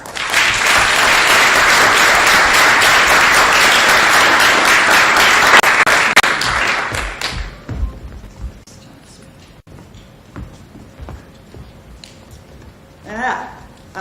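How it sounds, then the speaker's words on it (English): Audience applause for honorees lined up at an event, loud and dense for about seven seconds, then fading to scattered claps and murmuring voices, with a brief burst of clapping near the end. "we're going to line you all up and applaud for you all"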